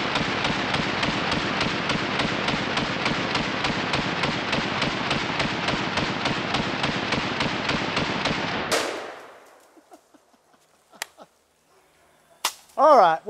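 A full-auto AK-47 rattles off a long, unbroken burst into a washing machine outdoors, loud and evenly paced for about nine seconds, then stops abruptly, leaving a fading echo and a few faint scattered sounds.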